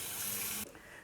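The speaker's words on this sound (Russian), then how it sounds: "Наливаю в нее воду." Water pours into a bottle with a bright, rushing hiss for about half a second, then cuts off into a faint residual trickle, close and quiet in a home kitchen.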